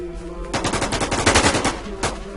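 Rapid automatic gunfire in the video game WarZ, a loud, dense burst of close shots lasting about a second and a half followed by a single later shot.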